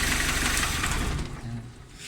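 Engine of a Nissan Versa van running, a steady, dense mechanical drone heard close and fairly loud, easing slightly toward the end.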